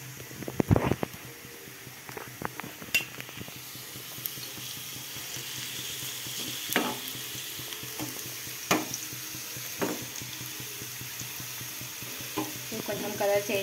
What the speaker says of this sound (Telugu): కలర్ చేంజ్ అయ్యే వరకు బాగా వేయించుకుందాం.